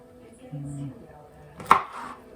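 A knife cuts through oranges on a board, a single crisp chop standing out against quiet surroundings, with a faint thud just before it.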